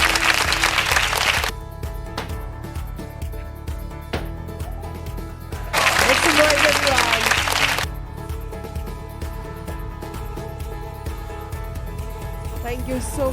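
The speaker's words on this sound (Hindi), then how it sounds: "मैं चाहूंगी जोरदार तालियां हो जाएं" An audience at a test series launch event breaks into two bursts of loud applause, one brief at the start and one of about two seconds in the middle, with a voice speaking over an amplified hall in between.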